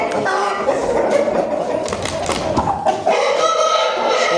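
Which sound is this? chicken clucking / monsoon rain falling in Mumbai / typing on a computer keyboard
chicken clucking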